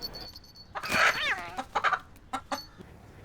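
A pet chicken clucks and squawks loudly up close in a house, giving a few rising, wavering calls followed by shorter clucks.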